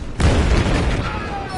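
A grenade explodes in the video game Battlefield 4 in Shanghai, a sudden loud broadband blast that hits after a brief lead-in and leaves a rumbling, crackling tail as it slowly fades.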